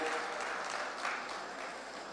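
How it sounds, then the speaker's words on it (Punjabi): An audience applauds at the inauguration of a new feed factory in Punjab attended by CM Mann, giving a steady, dense round of clapping that fades slightly over two seconds. "ਇਸ ਗੱਲ ਲਈ ਤਾੜੀਆਂ ਇੱਕ ਵਾਰੀ ਜ਼ੋਰਦਾਰ ਕਿ ਪੰਜਾਬ ਨੂੰ ਇਹਨਾਂ ਨੇ ਚੁਣਿਆ"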